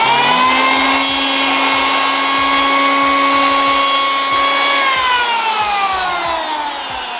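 An electric planer runs with a loud, steady high-pitched whine while shaving passes along a wooden board. The pitch holds through the passes and drops slightly as the motor winds down near the end. No one speaks.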